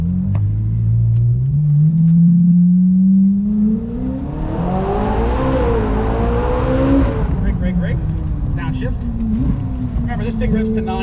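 A race car on a track at a driving experience in Bridgewater, New Jersey, its engine droning loud and steady, climbing in pitch as it revs up through the gears, then easing and rising again, with a rough rumble throughout.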